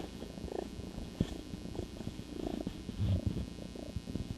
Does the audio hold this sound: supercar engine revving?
no